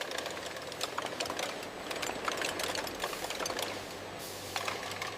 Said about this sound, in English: Caps are applied and tightened securely.